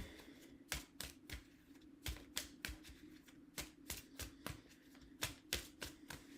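Oracle cards are shuffled and drawn by hand, a rapid series of crisp riffling snaps and slaps in an uneven rhythm, close and fairly quiet with no talking.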